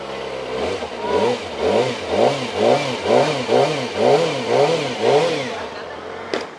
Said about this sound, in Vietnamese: cho anh em nghe thử cái âm thanh của nó. Tiếng nó như kiểu tiếng Honda ấy.